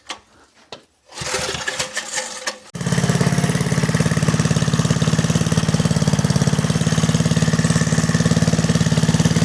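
A Kirsch petrol generator runs at low throttle, a steady, loud, rhythmic engine chug that settles in after a few uneven starting bursts and continues without break.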